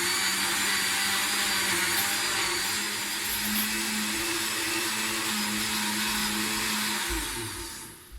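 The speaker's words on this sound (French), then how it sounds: "Après avoir mis tous les ingrédients, les épinards, la pomme, la banane, le gingembre et la cannelle, je vais écraser mon smoothie." A blender runs steadily for about seven seconds, whirring loudly as it purées a green smoothie of spinach, apple, banana, ginger and cinnamon, then winds down at the end.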